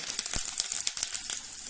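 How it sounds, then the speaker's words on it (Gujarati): Cumin and curry leaves crackling in a ladle of hot oil for tempering, a faint crisp sizzle with scattered sharp pops over short moments. "ગેસ ઓફ કરી દઈશું અને એડ કરશું લીમડો"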